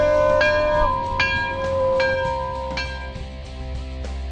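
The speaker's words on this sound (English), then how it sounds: "Somebody ring the bell." A bell rings out several clear struck tones in a row, each note ringing on and overlapping the next, loud and near, with no talk over it.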